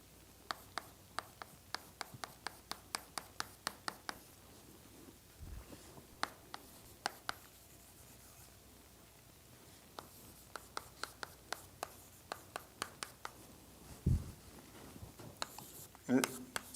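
Chalk or marker strokes on a board during a doctoral lecture on partial differential equations, sharp rapid taps and short scratches in bursts with pauses, fairly faint, with brief handling noises near the end.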